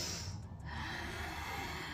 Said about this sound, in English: You can also do Darth Vader breathing,